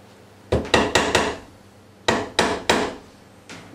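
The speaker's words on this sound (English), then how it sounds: "give it a couple of bashes with a hammer, just a nice flat hammer there" A flat hammer bangs on metal to flatten it, eight sharp ringing blows in quick clusters of four, then three, then a single strike, loud and close with no talking.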